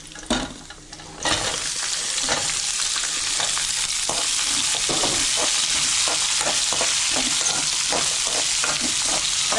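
Onions sautéing in a pan for a carrot chutney, a steady close sizzle with repeated scraping stir strokes running throughout after a brief quieter start, no voices.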